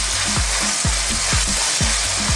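Goat meat and mushroom stir-frying in a hot pan, a steady loud sizzle broken by repeated scraping strokes of the stirring utensil in an even rhythm, close by with no talk.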